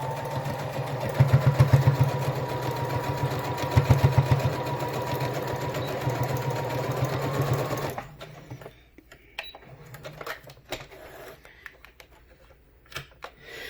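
Sewing machine stitching a fabric face mask seam, a fast rhythmic whirring run with a few stronger bursts that stops after about eight seconds, leaving faint handling clicks and rustles.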